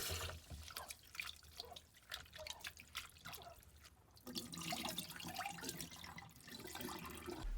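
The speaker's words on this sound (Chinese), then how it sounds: "把榛蘑给它控干水，然后再给它清洗几遍" Soaked hazel mushrooms are rinsed in a bowl of water, with soft splashing, drips and trickling that come and go at close range.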